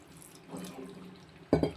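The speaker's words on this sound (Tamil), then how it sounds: "கொஞ்சம் தண்ணி ஊற்றிக்கிறோம்" Water is poured over soaked cashews before grinding, a soft trickle that ends in a short, close splash into the container.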